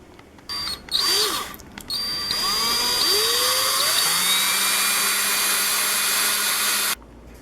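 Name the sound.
power drill boring holes with a 5/8 inch drill bit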